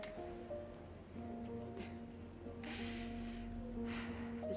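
Rain in the video game South of the Circle, a faint steady patter with soft drops, mixed with sustained tonal music notes underneath.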